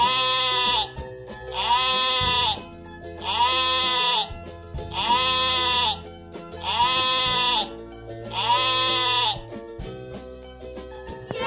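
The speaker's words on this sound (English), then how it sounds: "Sheep. Sheep." Sheep bleating in a children's animal-learning cartoon: six drawn-out, wavering bleats at a steady, evenly spaced rhythm, loud and close, with no talk over them.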